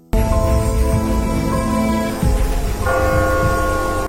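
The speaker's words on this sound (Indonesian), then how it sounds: "Dia berdoa kemudian mendengar suara lonceng di kuil suci." A temple bell rings loud and close, its sustained tone hanging over a dense musical background, with a fresh strike near the middle and the ringing carrying on to the end.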